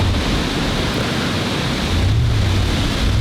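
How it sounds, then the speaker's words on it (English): Strong, gusty wind blowing through thick, branchy woods during a Kentucky deer hunt, a steady loud broadband rush with low buffeting rumble that swells near the end, no voices. "the wind is blowing like crazy"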